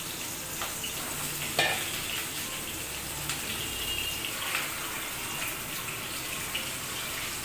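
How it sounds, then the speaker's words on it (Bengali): New potatoes frying in oil in a pan, a steady close sizzle with occasional soft scrapes of stirring throughout. "আমি আলুগুলোকে আগে ভেজে নেব ভালো করে"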